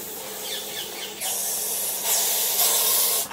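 A Russell's viper hisses hard and steadily, a loud close rushing exhale like a pressure cooker venting, surging louder in long sustained bursts with no talk over it.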